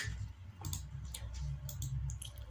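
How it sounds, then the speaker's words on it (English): A computer mouse is double-clicked on a Windows 11 PC, giving a few crisp, light clicks that sit close and clear over a steady low hum from the room or computer. "Then double click"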